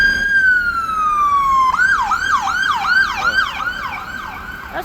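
A loud ambulance siren in Chicago sweeps in one long falling tone, then switches to a fast repeating wail, close and continuous.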